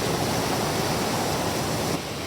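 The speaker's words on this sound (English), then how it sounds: "these waves are really rolling in on me" Ocean waves roll in on a Cape Breton Island beach, a steady loud wash of broadband surf noise lasting throughout with no break, the water close by.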